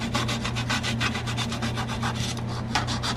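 A Fred Kelly Bumblebee jazz guitar thumb pick having its edges sanded, a rapid steady back-and-forth rasping at close range, about a dozen quick even strokes with no pause.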